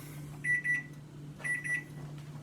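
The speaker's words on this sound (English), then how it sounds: "Okay, the timer is beeping." Repeated electronic beeping in bursts of four quick tones, pausing about a second between groups, over a steady low hum.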